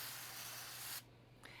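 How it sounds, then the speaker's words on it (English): A spray bottle misting water onto a baggie of black walnut seeds for cold stratification, one sustained close hiss lasting about a second, then a short faint second spritz. "You'll want to use a spray bottle or a seedling mister, something that can deliver a fine but broad area of moisture."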